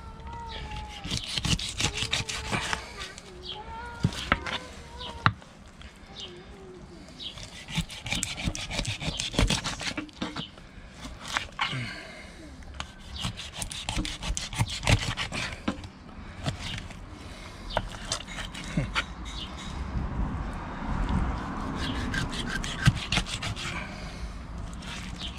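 A knife slicing a large pike into thin fillet slices, giving repeated scraping, rubbing strokes with irregular rhythm at close range and steady moderate loudness, with no talk.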